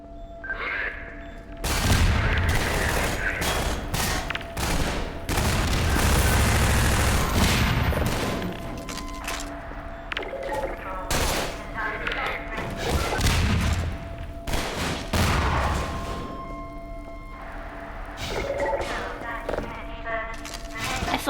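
Grenade explosions and bursts of gunfire in a video game against Combine soldiers, loud, dense and repeated booms and rapid shots filling the whole stretch, with a few brief pauses between volleys.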